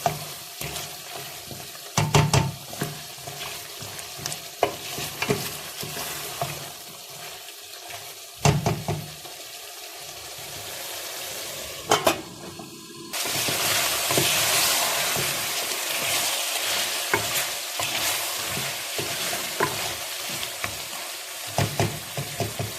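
Chicken qurma sizzles and fries in a pan with intermittent scraping and clinking of a spoon stirring, then a louder continuous hiss for the final stretch.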